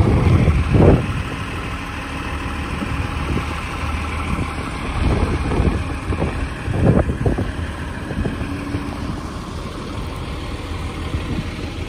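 A Nova Bus LFS hybrid city bus on a Montreal STM route idles with a steady low engine drone and faint vibration, occasional heavier thumps and knocks rising over the constant hum from inside the bus.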